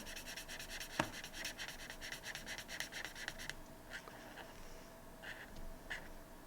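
A pen scribbles back and forth across a paper cash envelope, a faint close scratching and rubbing that continues steadily with a sharp tap partway through.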